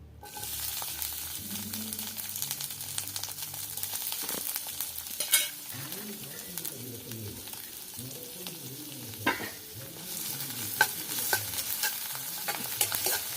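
Onions and curry leaves sizzle steadily in hot oil for beef curry while a utensil stirs and scrapes the pan now and then, close up, with no talking.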